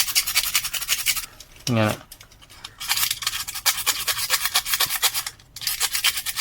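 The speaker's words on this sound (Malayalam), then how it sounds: "ഇതിങ്ങനെ ചെരണ്ടി കൊടുക്കുക" An amplifier circuit board is scraped clean ahead of soldering, giving close, rhythmic rasping strokes repeated over and over, broken by a short pause and a brief single spoken word.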